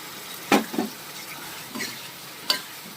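Tomatoes sautéing in a pan, a low quiet sizzle broken by a few short stirring scrapes and taps, with no voices.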